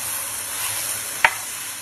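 Mushroom masala with garam masala, turmeric and chili powder fries in a pan with a continuous, even sizzle, broken once by a single sharp tap of a spoon against the pan.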